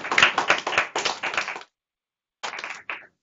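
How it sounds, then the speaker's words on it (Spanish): Applause from a classroom group for a student presenter, a burst of dense clapping for about a second and a half, then silence, then a shorter second flurry that trails off. "Un aplauso para Bianca, por favor."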